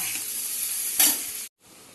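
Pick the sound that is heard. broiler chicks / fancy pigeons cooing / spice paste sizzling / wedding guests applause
spice paste sizzling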